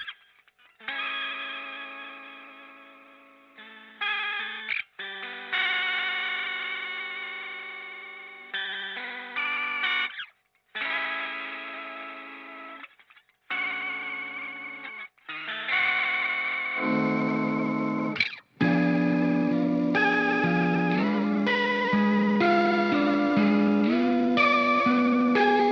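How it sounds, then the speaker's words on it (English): Electric guitar played through a tape-emulation effects pedal giving a wobbly, warbling VHS-tape character, with chorus-like shimmer and echo; chords ring in separate phrases with short gaps, building to a denser, sustained passage, no voices. "It makes your tone, guitar tone, sound like it's going through a tape, like a VHS tape."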